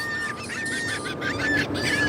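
New York pigeons call together in a short, busy outdoor stretch: a thin layer of overlapping chirps and coos sits over steady background noise, with no talking.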